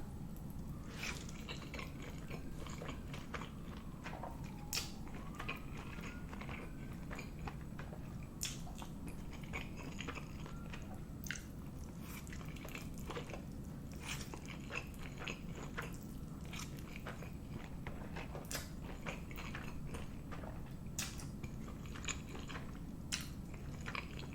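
Close chewing and biting of fire noodle spaghetti, soft wet crunches and smacks repeating at an irregular pace over a quiet background, with no talking.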